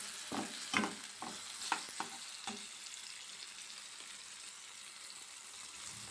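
Pasta frying in a pan, with a faint background sizzle broken by several scraping stirring strokes in the first seconds before it settles into quiet, steady frying.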